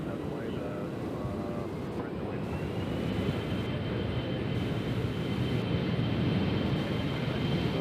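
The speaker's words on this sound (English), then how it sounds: "The American is taking off." An American Airlines jet takes off from Nashville International Airport, a steady broadband engine roar that builds gently and holds loud and close for the whole stretch, with a faint rising whine layered on top.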